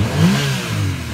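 The engine of a warmed-up 2016 Yamaha YXZ side-by-side revs steadily at close range, a rough, continuous drone that swells slightly and then holds without a break.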